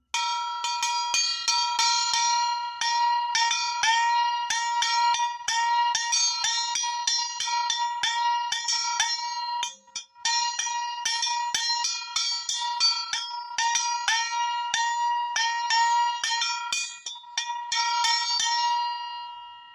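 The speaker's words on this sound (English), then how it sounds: "a Chinese gong." A small Chinese gong is struck repeatedly in a fast, steady run of bright metallic hits with ringing overtones, close and loud throughout, with a brief pause near the middle.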